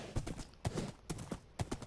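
Horse hooves clip-clopping in Minecraft gameplay, a few quiet, evenly spaced hoof clops over about two seconds with no talk.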